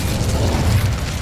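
Incendio fire spell from the Hogwarts Legacy video game: a short, steady whooshing burst of flame with a low roaring body, loud and sustained for about a second with no talking.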